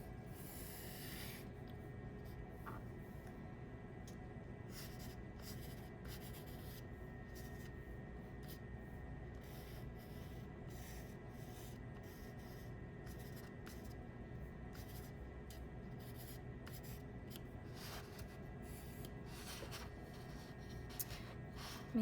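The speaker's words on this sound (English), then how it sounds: "I'm going to erase this line so I can draw a tree." Pencil scratching and rubbing on paper as a line is erased to make room for drawing a tree, a steady close scraping texture with short rhythmic eraser strokes throughout, no talking.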